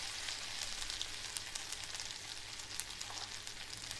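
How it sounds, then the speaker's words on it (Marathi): Ginger garlic paste frying in a pan for kaleji masala makes a soft, steady sizzle and crackle, quiet and continuous, with no voices. "आलू लसूणची पेस्ट व्यवस्थित यात परतून घ्यायची आहे, म्हणजे त्याचा उग्रवास निघून जाईल."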